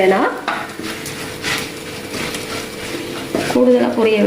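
Dried Maldive fish (masi) sizzling in a shallow pool of oil in a pan, with a steady frying hiss, a few stirring scrapes, and a voice speaking briefly at the start and end.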